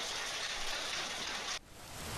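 Heavy rain with hail lashes Hyderabad, a dense, steady hiss of downpour that cuts off abruptly near the end, leaving a quieter wash of noise.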